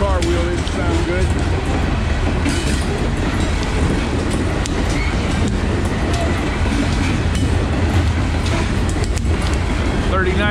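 Eastbound loaded coal train with an SD40-2 locomotive on the rear rolling over a curve near a ballast-deck bridge, a steady loud roar of wheels and cars with clickety-clack throughout and a faint voice.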